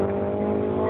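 Nissan GT-R R35 engine at an autocross event, a steady loud idle hum with a layered engine drone throughout, no launch or acceleration surge evident in this short moment.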